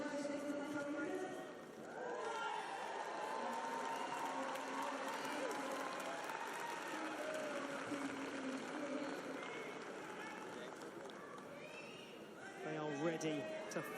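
A large arena crowd at a gymnastics pommel horse final murmurs in a tense, steady hum while awaiting a score, with voices talking over the background throughout and a brief burst of reaction near the end.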